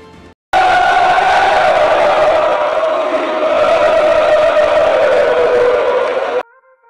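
A stadium crowd of Corinthians fans roaring a sustained champion chant in unison, loud and steady for several seconds before cutting off abruptly.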